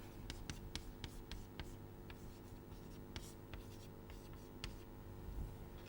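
Chalk or marker writing on a board during an engineering lecture, a steady run of short scratchy strokes and taps across the whole stretch, close and clear over a low room hum, with no talking.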